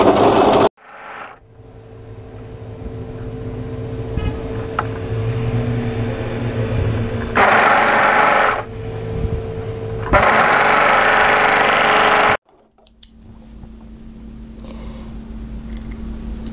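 An overlocker stitching the shoulder seams of a drop-shoulder raw-hem tee, its motor running in loud steady bursts that start and stop, with quieter humming pauses between runs and no talking.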